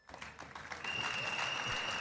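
An audience at the ANC Youth League national congress breaks into applause, a steady wash of clapping from a large crowd that grows fuller and keeps going.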